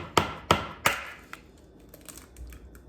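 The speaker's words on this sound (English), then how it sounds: "And last but not least, the 1 egg. We're cracking it." An egg is cracked for pancake batter with three sharp taps on a hard edge in quick succession, close and crisp, followed by faint soft sounds of the shell opening.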